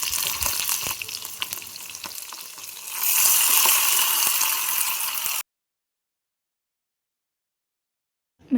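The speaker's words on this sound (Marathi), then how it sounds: "मस्त अशी फोडणी तयार झाली." A tempering of cumin, mustard seeds, curry leaves and chillies sizzles loudly in hot oil, then surges into a harsher hiss as water is poured in, before cutting to silence with a brief knock at the end.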